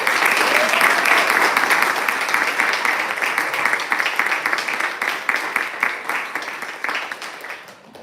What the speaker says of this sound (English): Please applaud mightily for C.M.